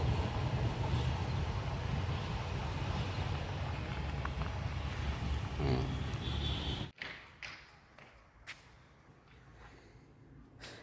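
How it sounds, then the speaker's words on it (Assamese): A heavy train rumbles loudly and steadily close by, then the noise cuts off abruptly into a quieter, hollow space with scattered clanks and knocks. "এয়া দেখিছে মালগাড়ী ট্ৰেইন সোমাই গ'ল।"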